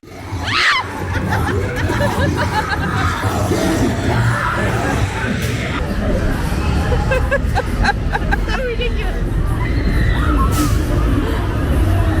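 Dense crowd hubbub on the first night of Oktoberfest, with loud overlapping chatter, laughter and occasional shouts filling the whole stretch at a steady, close level.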